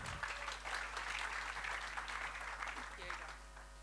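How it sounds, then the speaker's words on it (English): Applause from an audience at the Plug and Play Armenia Expo 2026: a continuous wash of clapping in a room, moderately faint, holding steady before tapering off near the end, over a constant low hum. "everybody another applause"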